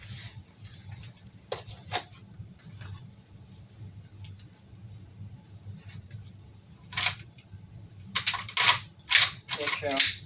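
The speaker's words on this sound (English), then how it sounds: "Make sure firing pin is back on my airsoft, that way you can hear the click." An FN P90 1:1 scale airsoft replica by Cybergun makes sharp mechanical firing-pin clicks, a few scattered early on and then a quick cluster of louder snaps near the end, over a low background murmur.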